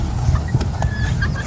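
A decoy rooster used for luring wild fowl clucks in short low bursts close by, over steady background noise, with no talking.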